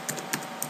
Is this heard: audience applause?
no